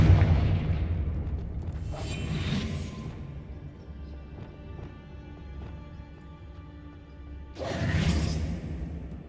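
A Confringo spell explosion in Hogwarts Legacy: a loud whooshing blast at the start, a second burst around two seconds, a lingering rumbling tail, then another swelling boom near the end.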